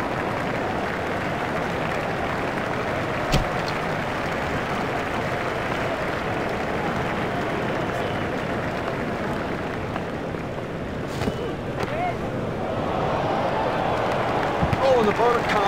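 A cricket stadium crowd at an England vs Australia World Cup semi-final applauds a big six, a steady wash of clapping and crowd noise sustained throughout, rising slightly near the end, with a commentator talking over it.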